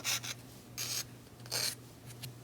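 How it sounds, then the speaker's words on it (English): Short bursts of dry rubbing and scraping as a sanding pad is worked back and forth across plastic edges of a scratch-built model airplane seat, quiet and close with brief pauses between strokes. "When it's dry, you can just take a sanding pad and clean up the edges."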